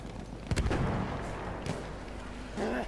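Bomb explosion and gunfire in the video game Battlefield 1 multiplayer, a heavy boom with rumbling shots over continuous battle noise, fairly loud, with a player's voice briefly heard.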